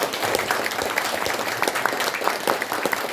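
An audience at a Korean ceremony launching a push for independence-activist honours applauds steadily, a dense wash of many hands clapping throughout, fairly loud with no speech over it.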